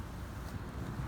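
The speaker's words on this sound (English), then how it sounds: "It's so windy." Soft, steady wind rushing and buffeting across the microphone during a beehive installation, a low continuous roar with no voices.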